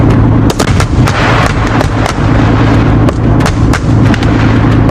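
Artillery explosions from an Indian Army exercise in Russia: a loud, dense barrage of sharp blasts and booms fired in rapid, irregular succession over a constant rumbling roar, with no voices.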